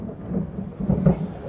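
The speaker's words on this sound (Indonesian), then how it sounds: "Ah, itu petir" Thunder booms during rain, two low muffled rumbles swelling close together over a soft rainy background, fairly loud and with no voices.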